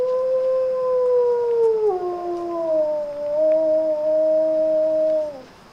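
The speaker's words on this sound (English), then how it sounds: "Fall is in the air, so Grayson lets out a howl." A captive wolf lets out a single long, clear howl with smooth pitch glides and a drop partway through, loud and close, then trailing off at the end, with no talk.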